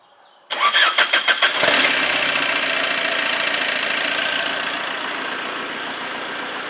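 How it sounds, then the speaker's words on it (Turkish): A 2011 Fiat Albea's engine cranks with a rapid series of starter pulses, catches, and settles into a steady, fairly loud idle. "İsterseniz ben bir de arabayı çalıştırayım. Bir motor sesini duyalım."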